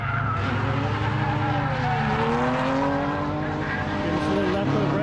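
A drift car screams around the track at full throttle during qualifying at the Piedmont Drift Invitational, its engine note rising and falling over howling tire squeal, loud and continuous, with a commentator's voice running underneath.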